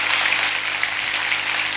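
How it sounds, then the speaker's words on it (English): Dense, steady applause from a large crowd at an Independence Day celebration fills the whole moment, loud and continuous without pause. "So let us give him also a big round of applause."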